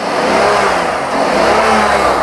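A Rolls-Royce Dawn engine revs steadily and loudly close by, a smooth continuous rising engine note with no talking over it.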